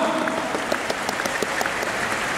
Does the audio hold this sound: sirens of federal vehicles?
no